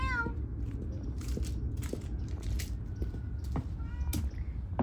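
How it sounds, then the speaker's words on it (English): Cats meowing outdoors near tall grass, several short high meows scattered through the clip with rustling and handling noise between them, close to the microphone. "Kitty time. Meow meow."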